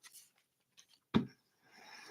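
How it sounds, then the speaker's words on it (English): Tarot cards from a Vitality Tarot deck are shuffled by hand in short bursts, a sharp riffle snap followed by soft papery sliding, close and otherwise quiet. "So let's put some shuffles on that."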